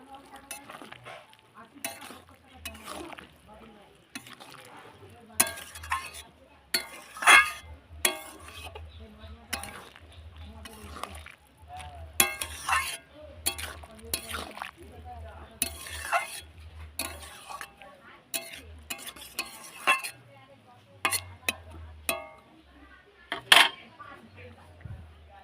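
Spoon stirring cauliflower stalk curry with mustard paste in a pan, a series of scraping clinks and soft sizzles in irregular bursts, fairly close, with quiet gaps between strokes.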